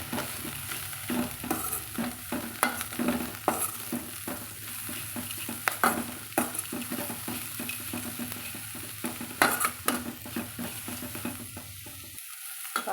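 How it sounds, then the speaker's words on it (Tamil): Grated coconut and chopped spring onion leaves sauté in a pan for a chutney, giving a soft continuous sizzle with frequent scraping stirs of a spatula, fairly close and steady, no talking. "இப்போ நம்ம வெங்காயத்தால் கூட சேர்த்தி வதக்கலாங்க."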